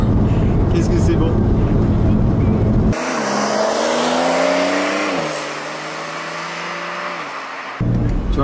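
A sports car driven hard on a big open road, its engine note rising and shifting through gears with a loud steady roar, and a voice talking over it at the start and the end.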